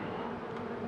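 A swarm of honey bees buzzes near a hive set in a garden, a dense, steady, droning hum with no pauses, moderately loud and close, with nothing else heard.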